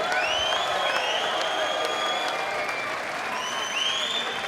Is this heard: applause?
yes